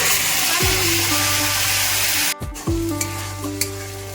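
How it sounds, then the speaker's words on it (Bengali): Whole garam masala sizzling in hot oil in a kadai, a loud, steady, close frying hiss with a brief stirring clank in the middle. "কড়াইতে আমার তেল গরম করা হয়ে গেছে এবার আমি এতে দিয়ে দিচ্ছি কিছু গোটা গরম"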